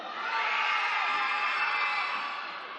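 Crowd at a women's basketball game between Mid-North Whai and Tokomanawa Queens screaming and cheering loudly and steadily, a dense roar of many voices that swells and holds for nearly three seconds before easing slightly.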